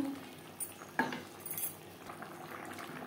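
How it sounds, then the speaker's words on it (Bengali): Fried fish being stirred into a bubbling curry gravy in a Bengali-style potato and fish curry, with a few sharp clinks and scrapes of a utensil against the pan over a low simmer. "গ্রেভির সাথে মাছ বেশ ভালো করে মিক্সড করে দেব।"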